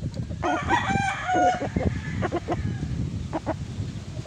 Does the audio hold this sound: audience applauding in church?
no